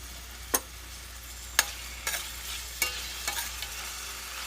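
Soy-marinated pork browns in a pan over medium heat, giving a soft, low sizzle under a handful of sharp, scattered clicks and scrapes from a utensil turning the meat.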